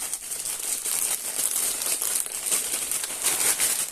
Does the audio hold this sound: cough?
no